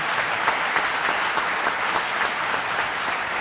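Applause for election winners at a school board meeting fills the room, a steady dense clatter of many hands clapping at once, loud and continuous throughout with no break.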